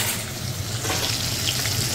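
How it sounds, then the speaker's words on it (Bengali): Katla fish pieces fry in oil with a dense, even crackling sizzle, close and continuous with no voices. "মাছ ভাজা"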